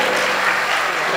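Audience applause at a community singing event for Mahesh Navmi, steady dense clapping filling the whole short moment, loud and close.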